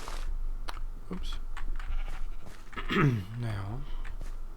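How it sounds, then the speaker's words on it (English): Sheep bleat in a video game, a few wavering cries up close near the middle and end, over a steady hum of game sound and the clatter of footsteps. "I hate to take these sheep out"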